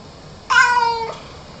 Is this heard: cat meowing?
yes